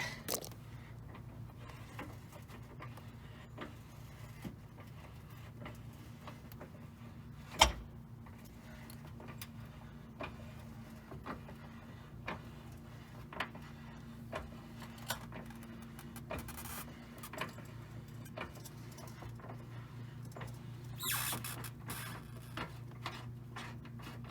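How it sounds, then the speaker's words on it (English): A wrench cranks the spare-tire winch under a Land Rover LR3/LR4 to lower the spare, giving faint, steady mechanical ticking and clicking over a low hum, with one sharper knock partway through. "take your wrench and just start unwinding it counterclockwise. And what's going to happen is it's going to start lowering that spare tire"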